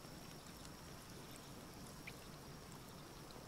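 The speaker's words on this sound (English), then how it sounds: "Water it with this very aggressive watering can" A very aggressive watering can pours water in the video game Palworld, a faint, steady trickling stream that runs continuously without pause and with no talk over it.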